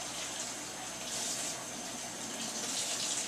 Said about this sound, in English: Going to wash my hands again.